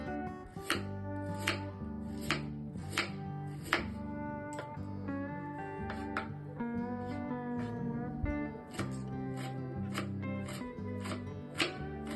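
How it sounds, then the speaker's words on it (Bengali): Onion, carrot and capsicum chopped into small pieces on a board, with steady, evenly spaced knife strikes running under continuous background music. "এখানে আমি নিয়ে নিয়েছি পেঁয়াজ গাজর আর ক্যাপসিকাম এগুলো এবারে আমি ছোট ছোট করে কেটে নেব"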